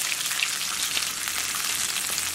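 A corn tortilla fries in a pan with a steady, bright sizzle and faint crackles, continuous and close, with no talking.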